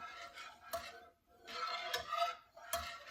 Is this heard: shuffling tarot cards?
no